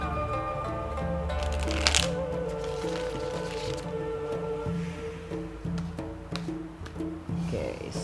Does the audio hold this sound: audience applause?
no